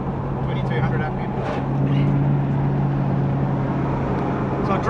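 A Mazda ute fitted with a 3UZ V8 and five-speed A650 automatic cruises at 2200 RPM and around 100 km/h, giving a steady low engine drone with road noise inside the cabin, while people talk over it.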